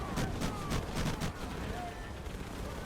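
Battle in Medal of Honor Pacific Assault, with grenade blasts and gunfire sounding as several quick heavy bursts in the first second and a half, then a rumbling firefight under shouted voices.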